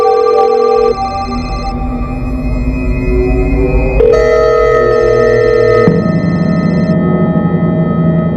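A father's mobile phone left behind at home plays a loud melodic ringtone, a sequence of sustained electronic tones shifting pitch in steps over several seconds, heard alone.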